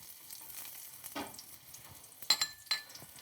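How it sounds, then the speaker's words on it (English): Garlic sizzling in a pan over medium heat, a soft steady frying hiss with a few louder crackles and stirring scrapes near the end. "the first thing that we're gonna do is adding our favorite, which is the garlic"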